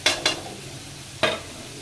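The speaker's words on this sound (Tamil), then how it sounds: "நல்லா வெங்காயம் வதங்கிடுச்சு" Chopped onions sautéing in a pan for a capsicum egg gravy, three brisk spatula scrapes over a faint background sizzle, two close together and one after a pause.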